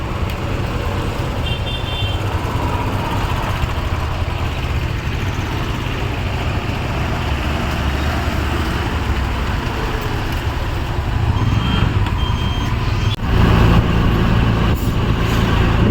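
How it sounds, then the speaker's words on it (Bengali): Car travelling along a rural village road, a continuous low engine and tyre rumble heard from inside, with a few faint horn toots and a louder surge near the end. "আমাদের গাড়ি ছুটে চলছে রাস্তা ধরে"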